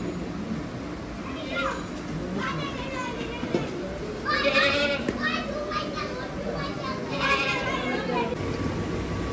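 Fat-tailed dumba sheep bleat repeatedly in a crowded livestock shed at a Mohammadpur agro farm before Eid, their drawn-out calls rising in bursts over steady background chatter and people talking.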